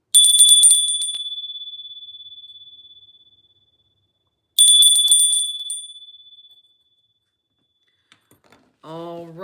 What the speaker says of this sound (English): Bell's going to ring, you guys.